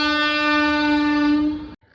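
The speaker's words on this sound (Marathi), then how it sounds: "रेल्वे आली सध्या रेल्वे गेटवर" A train sounds one long, loud horn blast at a railway crossing gate. The horn holds steady for under two seconds, then cuts off abruptly.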